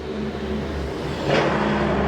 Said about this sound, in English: lots of trucks.